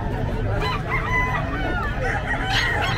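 A fighting rooster crows loudly and close by at the Bocaue pet market in the Philippines, with other fowl clucking and a busy background hum.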